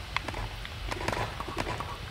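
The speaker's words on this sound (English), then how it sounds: "there's like a horse thing up there" Horse in the MoonQuest video game, with hollow clip-clop hoof taps in an uneven patter over a low rumbling background, moderately close and without talk.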